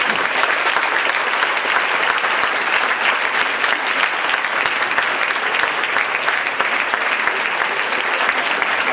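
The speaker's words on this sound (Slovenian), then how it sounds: "prosim še en velik aplavz za našo voditeljico in dejno vodijo Nastjo Močnik." At a Russian-themed evening show, the audience gives the female host a big round of applause: dense, loud, steady clapping from many hands that carries on without a break and with no talking.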